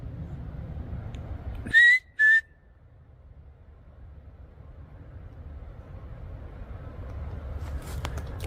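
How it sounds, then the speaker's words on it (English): Two short, rising whistle notes ring out through trees at night, faint and slightly echoing, then give way to a quiet, low ambient hush. "a faint whistle echoes through the trees"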